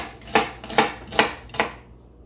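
A knife roughly chopping vegetables on a board, four distinct chops spaced evenly and close by, with no talking.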